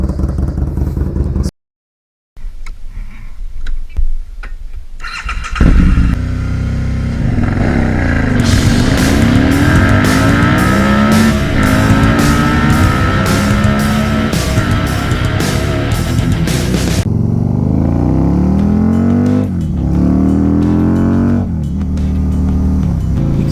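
Motorcycle ridden on open road in Indiana on a lunch-break ride, its engine droning loud and steady with rising and falling revs through gear changes, wind rush and clatter throughout, no talk.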